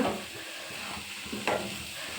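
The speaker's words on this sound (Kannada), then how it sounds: "ಇದಕ್ಕೆ ಇವಾಗ ರವೆ ಹಾಕಿ ಚೆನ್ನಾಗಿ ಹುರಿಯೋಣ" Plain semolina (rava) roasts in ghee in a pan while a spoon stirs it, giving a soft steady sizzle with light scraping and one brief louder scrape, close and quiet with no talking.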